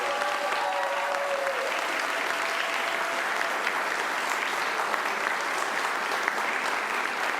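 Steady applause from a school board meeting audience greeting administrators, a dense, even wash of clapping lasting throughout with no break.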